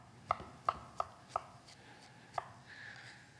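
Vegetables are chopped on a cutting board while preparing omelets, a quiet close series of five sharp knife taps in an uneven rhythm with pauses between them, and no voices.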